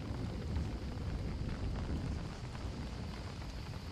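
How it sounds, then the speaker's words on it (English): Steady rain pours in the video game Don't Starve, a constant low rushing hiss with a faint rumble, continuous and even with no voices. "And it just happens to start raining now."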